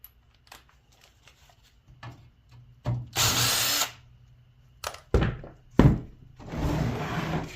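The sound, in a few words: removing aluminum coil from an old dehumidifier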